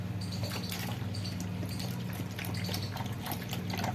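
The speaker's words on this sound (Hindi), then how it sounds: "पानी हमेशा आराम से मिलाना है, झटके से नहीं मिलाना है।" Water is poured slowly and steadily into a chemical solution for refining silver powder, a continuous close trickle and splash beneath a low background hum, with no talking.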